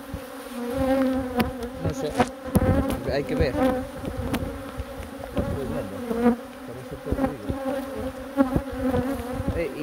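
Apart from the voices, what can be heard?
honey bees buzzing at a beehive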